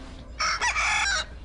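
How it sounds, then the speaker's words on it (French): Young domestic chicken giving a short high-pitched clucking cry, one close burst of about a second, heard alone. "il s'agit du caquettement d'un jeune poulet de l'espèce Gallus gallus domesticus indigène à la terre"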